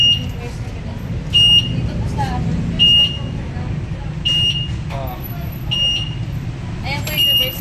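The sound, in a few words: electric bike reverse alarm beeping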